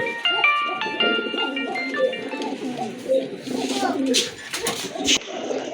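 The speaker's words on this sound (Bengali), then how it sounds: "এখানে কিন্তু এক জোড়া ব্ল্যাক মুখী কবুতর রয়েছে" Black-faced pigeons coo repeatedly in low, throaty murmurs, fairly close, with some chatter and rustling mixed in throughout.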